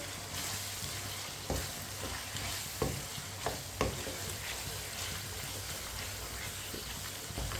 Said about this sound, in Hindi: अब इसे 2-3 मिनट के लिए अच्छी तरह मिक्स करते हुए पका लेंगे।